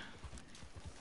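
A horse in the video game Red Dead Online clip-clops in a quick, even hoof rhythm, faint and close, in a brief burst.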